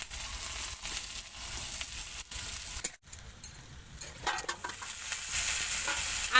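Fried onions go into a pan of hot oil with cumin for a home-style snakehead fish curry, sizzling steadily with scraping stirs and light clinks, fairly soft and close, with no talking.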